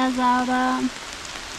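Rain falls steadily during a hiking trek in the Palatinate forest, making a soft, continuous hiss that runs under a short stretch of German speech and carries on alone after the voice stops.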